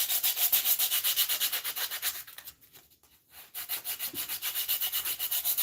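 Sandpaper rubbed by hand over a small wooden mallet, with rapid rhythmic scratching strokes close by, a brief pause midway, then the steady back-and-forth sanding resumes.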